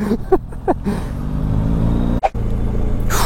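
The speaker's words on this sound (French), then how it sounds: "C'est là qu'on voit que c'est une moto tout terrain" An off-road motorcycle engine rumbles steadily at close range while riding over rough, stony ground, with brief interruptions and bursts near the start and middle.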